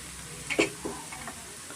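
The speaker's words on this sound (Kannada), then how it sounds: "ಸ್ವಲ್ಪ ಕರಿಬೇವು ಮತ್ತು ನುಗ್ಗೆ ಸೊಪ್ಪು ಹಾಕೋಣ ಸ್ವಲ್ಪ ಎಣ್ಣೆನಲ್ಲಿ ನಾನು ಫ್ರೈ ಮಾಡ್ಕೊತೀನಿ" Curry leaves and tender drumstick leaves hit hot oil with a brief crackling burst, followed by a few softer pops and a low steady sizzle.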